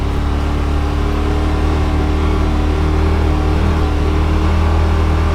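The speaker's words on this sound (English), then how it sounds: "You can hear the engine settle down" A 2021 Yamaha Wolverine RMAX2 1000 UTV engine idles in crawl mode with a steady low rumble, holding an even, settled drone close by with no revving.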